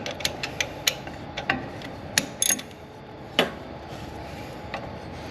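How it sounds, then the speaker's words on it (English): A ratchet clicks in short irregular bursts while tightening the oil filter on a John Deere Z970R zero-turn mower, with sharp metallic snaps and a few louder knocks up close. "then we'll get the ratchet on"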